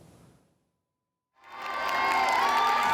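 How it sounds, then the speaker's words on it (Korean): Wedding guests cheer as the bride enters, a loud, close swell of crowd shouting and clapping that rises after a brief silence and builds to a sustained roar. "하객들의 환호 속에 입장하는 신부"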